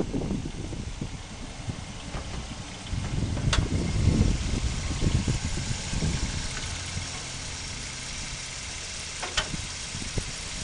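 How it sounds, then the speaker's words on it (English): A 2007 Mazda 3i four-cylinder engine idles steadily at close range with a low, uneven rumble and a few faint clicks, no voices present. "the small four-cylinder engine, very dependable"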